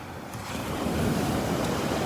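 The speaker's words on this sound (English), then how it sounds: "this is the other edge of the sandbar right in here where the waves start curling up again" Ocean surf curls and breaks over a sandbar at Delnor-Wiggins beach, a broad steady wash swelling loud and close for two seconds, with some wind noise and no talking.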